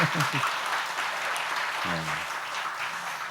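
Church congregation clapping during a Friday service testimony, a moderate, fairly steady patter of hands with a few brief voices cutting in near the start and middle.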